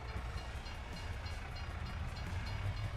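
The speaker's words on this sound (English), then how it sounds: "Okay, the train's gone through." A train passes in Farming Simulator 22 with a steady, loud rolling rumble and rattle that holds constant throughout, with no talk over it.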